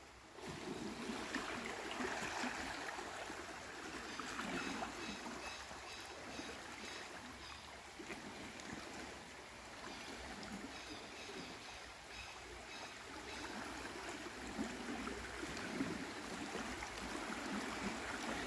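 Fast, swollen river current after heavy rain rushes steadily at a curve of the flooded Zaina River, a broad continuous wash of water with a few faint dripping and trickling details, no one talking.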